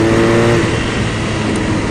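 BMW R nineT Racer motorcycle at full throttle, a loud, close engine roar that climbs steadily in pitch then drops away as it changes gear, with a rough, busy exhaust note and heavy wind rush throughout.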